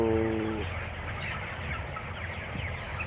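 Broiler chicks, 24 days old, in a poultry shed give a short burst of clucking and peeping, then a steady background hum of the shed continues.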